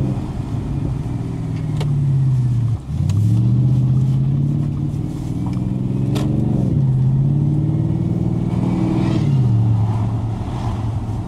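An Audi S5 engine revs repeatedly, pitch climbing and dropping in several surges over a steady idle rumble, close and loud, with no talking.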